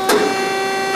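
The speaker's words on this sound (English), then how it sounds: "Machine will unclamp." Dreis & Krump HSB-1014 leaf brake unclamping, a brief mechanical clunk followed by a steady close hum.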